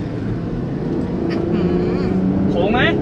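A raised Land Rover Freelander V6 4x4 driving through a curve, its engine a steady low rumble under continuous talking from people inside the vehicle.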